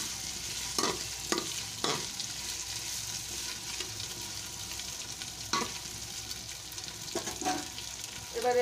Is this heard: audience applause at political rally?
no